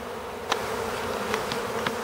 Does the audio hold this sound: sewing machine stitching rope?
no